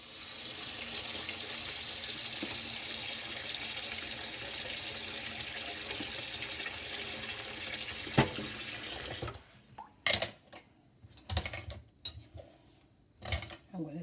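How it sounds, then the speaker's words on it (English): Tap water runs steadily into a sink while a pumpkin and a carrot are washed, a continuous close hiss that stops abruptly, followed by scattered clunks and knocks of vegetables and dishes. "I'm going to wash my pumpkin and my carrot"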